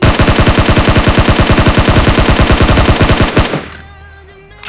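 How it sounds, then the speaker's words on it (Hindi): Rapid, loud automatic gunfire from a shooter video game, a steady rhythmic burst of close shots lasting about three seconds before cutting off abruptly into near silence. "मैं उस पर फायर करता हूँ।"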